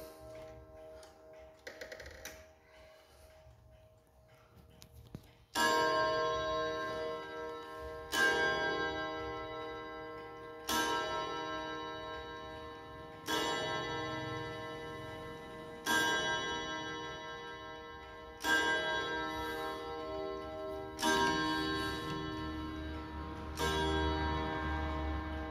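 Antique Japanese wall clock with a four-gong, four-hammer movement and brass pendulum: faint ticking, then a series of evenly spaced, ringing gong strikes, each decaying slowly before the next, close and clear.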